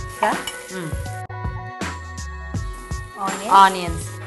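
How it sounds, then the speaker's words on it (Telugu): Ginger garlic paste and onions sizzle steadily in a hot pan for a mushroom and baby corn curry, with stirring scrapes, a louder hiss near the end, and faint voices in the background. "ఆనియన్స్ కొంచెం బ్రౌన్ షేడ్ వచ్చే వరకు ఫ్రై చేసి"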